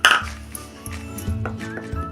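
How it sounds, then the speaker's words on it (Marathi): A spoon stirs eggless wheat flour cake batter in a bowl, giving a few bright clinks and taps against the bowl's side with soft scraping between them, close up and without speech. "हे बॅटर आता एकसारखं हलवून"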